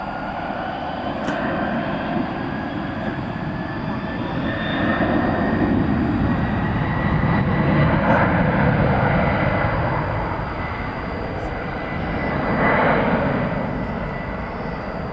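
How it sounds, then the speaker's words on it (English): A UPS Airbus A300 cargo jet takes off at night at DFW Airport, a loud continuous engine roar that swells, eases and swells again as it climbs away, heard from a distance with no talking. "Here goes the UPS A300 off to Louisville."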